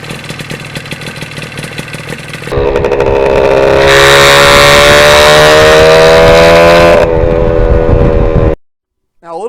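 A 1977 Yamaha RD400 two-stroke motorcycle fitted with tuned expansion chamber exhaust pipes burbles at idle, then blips and rises to a loud, raspy, ringing rev held for several seconds before dropping back and cutting off.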